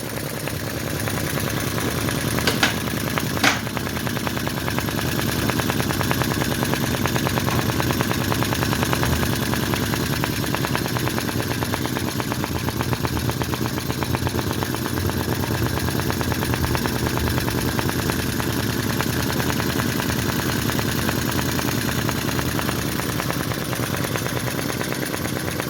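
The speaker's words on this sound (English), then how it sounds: "let's have a look at this engine a bit closer" A small model V-twin engine runs continuously with a fast, rattling mechanical chatter, steady and close throughout, with a couple of brief clicks early on.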